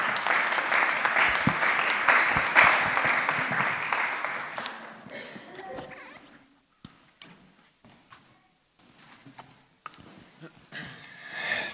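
Clapping from a seated audience at a talk on entrepreneurship and faith, steady and fairly loud for several seconds, then dying away into scattered claps and room noise.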